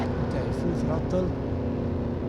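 A car engine held at full throttle in the Ford Racing 3 video game on PlayStation 2, a steady, loud droning roar that runs continuously without a break.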